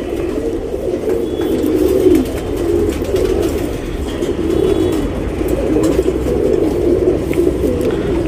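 Fancy pigeons coo in a steady, continuous low murmur, with a faint background hum and no voices.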